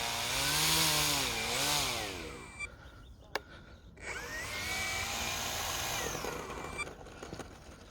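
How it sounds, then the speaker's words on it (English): A small remote-control Night Timber X plane's electric motor whines and surges in pitch while taxiing and spooling into reverse thrust, nearby and fairly loud, with a brief drop and rising whine. "And the reverse thrust."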